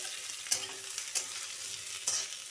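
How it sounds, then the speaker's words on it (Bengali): Chopped onions frying with potatoes and pointed gourd in a pan, a soft steady sizzle broken by a few sharp spatula scrapes and clinks, close and quiet with no talk. "পেঁয়াজগুলোকে একসাথেই ভেজে নিচ্ছি।"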